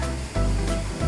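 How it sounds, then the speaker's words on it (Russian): Pelicans splashing in a shallow pool at Antalya zoo, a steady broad wash of water noise that swells slightly midway, close and continuous with no voices. "Да, плюхаются себе"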